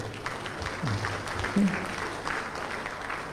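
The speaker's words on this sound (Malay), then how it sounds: "marilah kita sama-sama uh, memberi satu tepukan hebat kepada ketua panel kita." Seminar audience applauding the panel chair, a fairly faint, steady patter of clapping from a room of listeners with some voices underneath.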